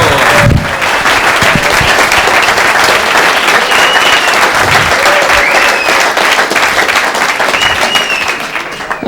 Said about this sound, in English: A nice round of applause, Mr. Dan Margarita.